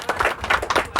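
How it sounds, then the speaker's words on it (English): A handful of people clap in a loose, uneven rhythm of about five or six claps, close and moderately loud, during a game-streaming show. "Get a clap for that."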